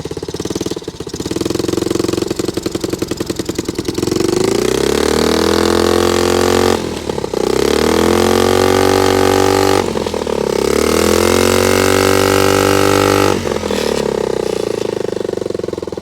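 A 1970 Honda Z50A mini trail motorcycle's small engine runs loud and close, sputtering unevenly at first, then revving up in repeated rising and falling swells between rough idle.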